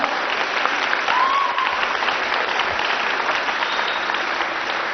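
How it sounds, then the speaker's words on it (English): An audience applauding people for standing up to come forward: steady, dense clapping from a large crowd that holds evenly throughout, with no voices over it. "Give them a hand."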